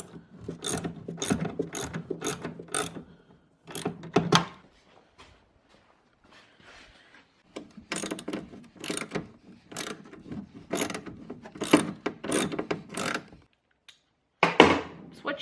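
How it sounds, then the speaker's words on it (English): Impact driver rattling out snowmobile rear suspension bolts in close, loud bursts of rapid hammering, several runs each a second or two long with short pauses between, no talking. "I'm just going to be probably using the impact driver and then a socket for the front too"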